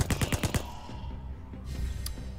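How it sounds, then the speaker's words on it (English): A rapid burst of about six gunshots in a steampunk town-building video game, sharp and close, followed by a fading low rumble and a faint later click. "That's a gunshot."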